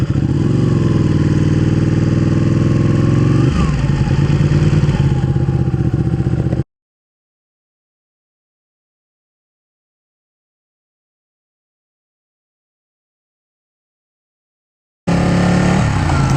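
A motorcycle engine runs steadily while riding, cuts to several seconds of silence, then the engine returns at the end.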